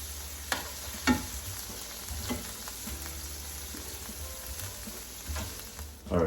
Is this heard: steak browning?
yes